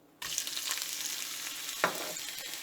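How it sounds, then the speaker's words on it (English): Chopped onions drop into hot oil in a deep pan on the stove and set off a sudden sizzle that keeps crackling. A second burst follows as they are stirred, and no one speaks. "when the oil is hot, you add the chopped onions"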